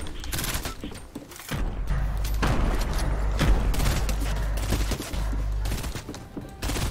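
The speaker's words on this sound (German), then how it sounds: "Jetzt sind auf jeden Fall Schüsse. Oder wer schießt hier?" Bursts of rapid gunfire and booms ring out during a Fortnite team deathmatch, dense and fairly loud over roughly seven seconds of game sound.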